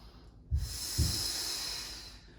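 During pilates leg circles, a person gives two quick nasal sniffs and then a long, steady, breathy exhale, close and fairly soft.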